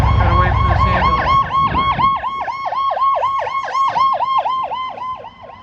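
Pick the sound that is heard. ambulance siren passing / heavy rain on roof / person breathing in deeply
ambulance siren passing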